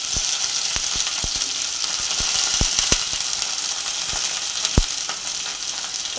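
Curry leaves and garlic frying in hot oil while making fish pickle, producing a loud, steady hissing sizzle dotted with sharp pops and crackles.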